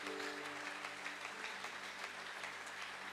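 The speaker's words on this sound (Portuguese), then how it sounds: "Aplauda ao Senhor Jesus Cristo." A church congregation claps together in praise, a dense, even wash of applause sustained throughout, moderately distant and fairly quiet.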